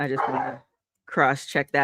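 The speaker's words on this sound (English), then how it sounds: "She's talking to other dogs in the neighborhood." A pet dog in a home barks and yips in short bursts that mix with someone talking over it, close to the microphone.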